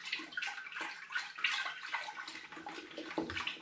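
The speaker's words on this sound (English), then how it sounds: "I've got my extra dark spray malt, and I'm going to stir that in." Extra dark spray malt is stirred into a heated brewing pan for a raspberry ripple porter, giving soft, uneven sloshing and scraping strokes in a quick, irregular rhythm at close range with no talk.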